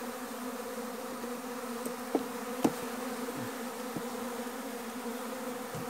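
Honey bees fly around the entrance of a weak hive in a steady, close, even buzzing drone. A few faint sharp ticks and knocks are heard, and no one speaks.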